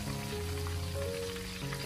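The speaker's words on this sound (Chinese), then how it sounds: "接着我们再把青红辣椒也放进油锅里面，简单的过油一下" Green and red chili peppers hit hot oil in a wok for a quick pass while making sweet and sour pork, giving an even, close, crackling sizzle with no voices.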